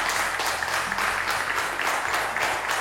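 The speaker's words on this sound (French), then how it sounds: "Merci d'applaudir pour notre roi." A studio audience on a TV quiz show claps steadily in a dense, even round of applause, fairly close and sustained throughout.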